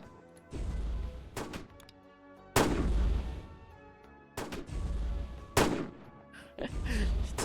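Gunshots in a Roblox video game come as several heavy, booming blasts at irregular intervals, with voices talking between and over them.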